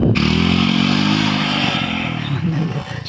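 A motorcycle runs fast at about 120 on an open road, its engine a loud, close, droning roar with steady harmonics, easing slightly toward the end amid faint rattles and wind.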